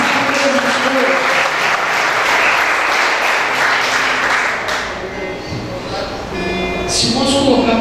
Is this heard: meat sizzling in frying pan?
no